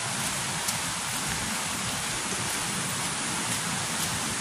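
Heavy rain pours down in a dense, continuous hiss, steady and loud from start to finish.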